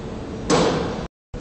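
Lift doors of a Schindler Eurolift in Roblox sliding shut, a sudden swelling rush of mechanical sound lasting about half a second, then abrupt silence.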